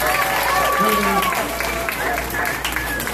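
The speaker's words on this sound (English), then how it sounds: "Give everybody a big round of applause" Audience at a school beatbox battle claps and cheers in a steady burst of applause, with voices calling out over the clapping throughout.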